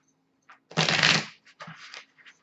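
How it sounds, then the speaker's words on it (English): A quick riffle of playing cards being shuffled, one loud burst followed by a few softer flicks and taps up close. "I'm going to shuffle again."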